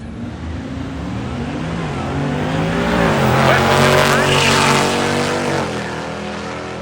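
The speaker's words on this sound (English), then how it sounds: "Lips back with the Dodge Charger and the diesel pickup truck on the left-hand side" A Dodge Charger and a diesel pickup truck launch in a drag race at a motorsport event, engines roaring loudly as they accelerate past, with an announcer talking over the noise.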